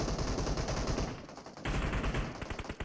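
Rapid automatic gunfire and a grenade burst in a shooter video game, dense loud rattling bursts with a brief lull midway.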